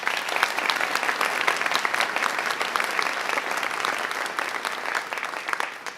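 Faculty and staff at a university all-hands meeting clap in a sustained, dense round of applause that fills the room at steady volume for several seconds.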